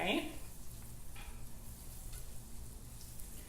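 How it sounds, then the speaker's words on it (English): Butter sizzling in a hot pan, a soft steady crackle and hiss throughout, with a brief clatter at the start. "we're gonna put in our butter, and it's sizzling already"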